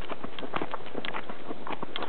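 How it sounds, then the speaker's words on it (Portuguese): Horse hooves clip-clop in a quick, uneven rhythm while riding on a solo journey across the Americas, close and moderately loud with no talk. "andando a cavalo."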